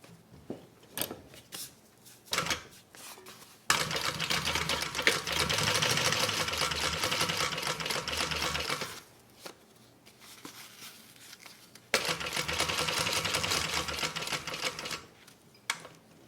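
A sewing machine stitches the bottom of a range bag in two long, steady runs of rapid mechanical chatter, separated by quieter pauses filled with fabric handling and small clicks.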